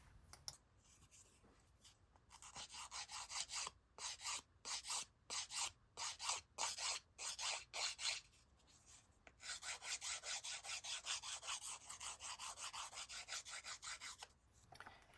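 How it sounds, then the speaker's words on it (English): Four small wooden pieces taped together into one block for a 1:12 scale fold-up TV tray are sanded by hand, a series of close, rhythmic raspy strokes with short pauses, then a longer run of steady rubbing. "I'm going to sand them all as one piece."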